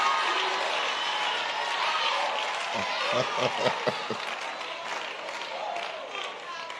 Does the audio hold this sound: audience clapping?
yes